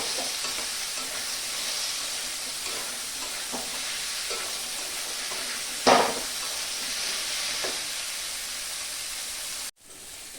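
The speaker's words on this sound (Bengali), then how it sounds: "কাবলি চানাটা দিয়েছি, আমি আরেকটু কষিয়ে নেব" Mutton and chickpeas frying with spices in a pan, giving a steady close sizzle and hiss with a few stirring scrapes and one sharper clatter partway through, without speech.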